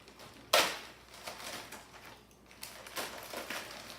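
A blade slices open a DHL Express shipping box, starting with a sharp ripping tear of tape and followed by softer scraping and crinkling strokes up close.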